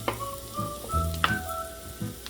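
Carrots stir-fry in butter alongside scallops, a soft continuous sizzle with a few scraping stirs of the spatula, close by and fairly quiet, no speech.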